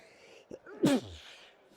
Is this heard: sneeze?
yes